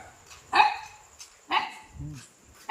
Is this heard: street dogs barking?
yes